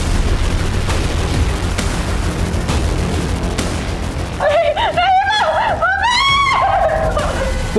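A woman's shrill, wavering scream in a crime drama rises sharply after several seconds of loud, dense background noise and continues in repeated wailing bursts.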